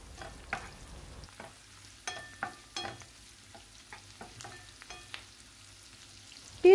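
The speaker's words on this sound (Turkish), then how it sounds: "Soğanların kokusu çıkıncaya kadar kavuruyorum." Chopped onions sauté in olive oil and butter in a pan, with a soft quiet sizzle under repeated scraping and stirring clicks from a utensil, close by with no talk.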